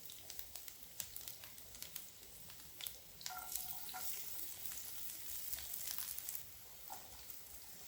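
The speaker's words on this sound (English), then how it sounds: "Add the chopped garlic and onion, and sauté until softened and fragrant" Chopped garlic and onion sautéing in oil in a pan over medium heat, a steady faint sizzle and crackle with scattered small clicks of stirring, continuous throughout with no talking.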